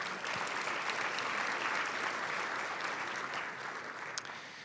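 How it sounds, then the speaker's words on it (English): Audience applause at an education event rolls on steadily as a dense, even wash of clapping throughout, with no voices on top. "Big round of applause for them."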